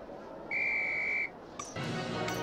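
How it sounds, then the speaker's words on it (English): Referee's whistle from the Harry Potter and the Philosopher's Stone PS1 game, one steady high whistle blast lasting under a second, followed by a burst of brighter game noise, with no talking. "On my whistle, then."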